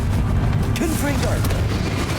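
Confringo blasting spell explosion in Hogwarts Legacy, a sustained loud low boom and rumble lasting a couple of seconds, with faint voice-like tones mixed into the blast.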